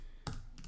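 Keystrokes on a computer keyboard: a couple of quick, soft clicks in a quiet room, close and isolated with nothing else around them.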